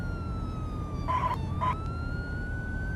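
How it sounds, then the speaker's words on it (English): A police siren in the 1998 driving game Virtual Driver's Ed wails steadily at moderate loudness over constant engine and road hum, with two brief sharper bursts partway through. "When you hear a siren, scan the scene for emergency"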